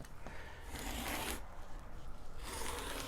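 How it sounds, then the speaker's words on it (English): A rotary cutter slices through upholstery fabric for a stool, giving two or three short, soft rasping swipes with quiet pauses between them and no voices. "Rotary cutter, cuts no time."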